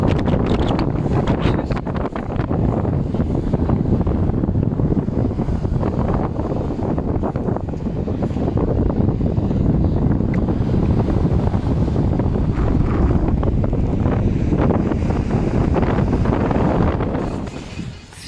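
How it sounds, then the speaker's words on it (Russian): Strong wind buffeting the microphone over crashing sea waves on the shore in Sochi, a loud continuous roar with surging surf throughout, briefly easing at the very end. "Какие волны, ничего себе."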